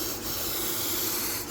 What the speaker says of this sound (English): Not a really big fan of these spray cans of this sort.